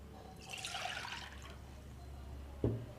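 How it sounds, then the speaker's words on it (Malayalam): Water pours into a cooking pot for boiling falooda vermicelli, a brief splashing rush that fades into a quieter trickle. A single sharp knock of the pot or a container follows near the end, and no one speaks. "ഈ പാത്രത്തിലേക്ക് നമുക്ക് വെള്ളം ഒഴിച്ചു കൊടുക്കാം."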